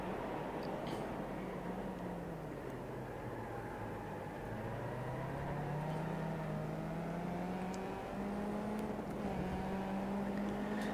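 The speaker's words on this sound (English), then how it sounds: "It's funny with the car's tire sounds. It sounds like it's sliding all over" Race car engine drone in the iRacing sim-racing game, with a steady whirring tone that rises and falls through gear changes and a constant hiss of tire noise, continuous throughout, with no talk.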